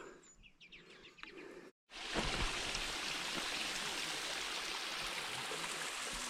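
Mountain stream rushing through snowy high country on a hiking trail, a steady loud broadband wash of flowing water that fills the clip after a brief cut, with faint bird chirps in the quieter opening.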